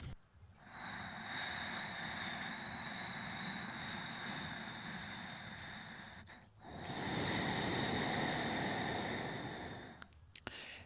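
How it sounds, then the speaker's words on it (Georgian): Ujjayi breathing during Ashtanga yoga practice makes a close, ocean-like rushing breath. Two long, steady breaths are separated by a brief pause, with no talk. "აშტანგა იოგას პრაქტიკის დროს ვიყენებთ უჯაის სუნთქვას, რომელიც გავს ოკეანის ხმასაც."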